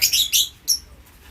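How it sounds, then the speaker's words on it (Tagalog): Small birds chirp close by in three quick, high, bright bursts, then go quiet. "Yan yung update sa ating mga alagang ibon."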